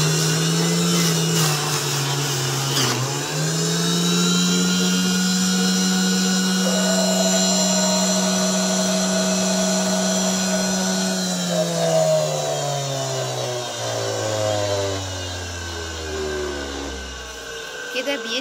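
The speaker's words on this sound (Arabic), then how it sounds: "وبعد ما تسلقيه هتضربيه في الخلاط" A kitchen blender purees boiled carrots, its motor whining steadily at high pitch, shifting speed a few times and winding down near the end, with someone talking over it.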